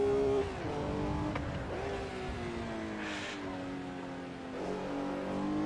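A 1960s racing car engine in the driving game Assetto Corsa drones steadily with a rising and falling pitch as it revs and shifts, a continuous fairly quiet mechanical hum throughout.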